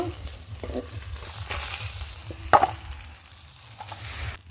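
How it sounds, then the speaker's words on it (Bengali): Pabda fish fry in hot oil with a continuous soft sizzle and crackle, broken by a sharp clink of a utensil and occasional stirring scrapes, close and steady with no talk. "বাকি মাছগুলো ভেজে নেব"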